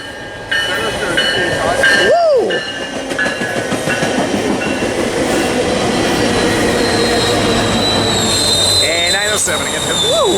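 A northbound Metrolink commuter train rolls past loudly at Fullerton, with rumbling wheels, rhythmic clickety-clack over rail joints and high squeals from the wheels as the cars go by.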